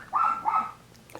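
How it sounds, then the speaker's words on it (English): A pet dog gives two quick, loud barks close by indoors, followed by quiet. "sorry about the dog"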